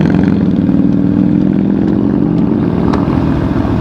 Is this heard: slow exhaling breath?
no